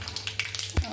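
Mustard seeds crackling in hot oil in a pan while a Gujarati-style okra dish is being tempered, with faint close-up spluttering and one sharper pop near the end, under a low steady background hum.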